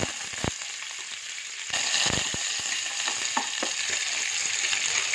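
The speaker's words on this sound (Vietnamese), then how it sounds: "Cho một chút dầu ăn vào. Sau đó mình cho vào đây một ít hành chiên lên." Onions fry in hot cooking oil with a steady close sizzle and crackle, and a few stirring clatters and scrapes cut through partway, with no talking.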